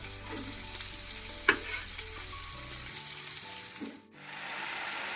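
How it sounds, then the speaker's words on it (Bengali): Green peas and mixed vegetables fry in a pan with a continuous soft sizzle, broken by a few scraping stirs close by, then a brief dip before the sizzling resumes. "মটরশুঁটিটা খানিক্ষণ একটু ভেজে নিলাম এবার বাদ বাকি সবজিগুলো দিয়ে দেবো"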